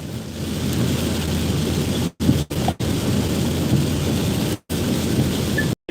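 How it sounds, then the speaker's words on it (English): Heavy rain pounding on a car while driving, a dense loud steady hiss of downpour filling the cabin, broken by a few brief cut-outs, with no talking. "Because it's raining that hard."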